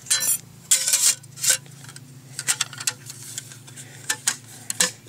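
A folding metal firebox stove is snapped shut, giving a series of sharp close metallic clicks and clacks spaced irregularly, with quieter handling rattles between them and no talk.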